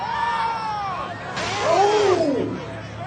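Crowd hubbub at a Pokémon Diamond and Pearl launch event in 2007 at the Nintendo World Store, with steady babble and scattered raised voices through the whole stretch, swelling midway while nearby speech drifts over it.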